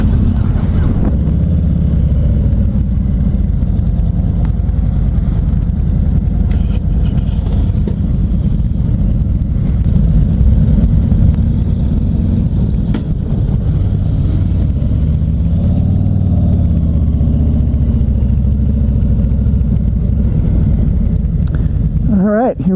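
Harley-Davidson CVO Limited motorcycle with a Milwaukee-Eight 107 engine, a steady, loud low rumble with some wind noise throughout the ride, holding a fairly constant level.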